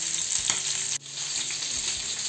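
Liver pieces and green peppers fry in a pan with a steady loud sizzle, close up, with a brief dip midway.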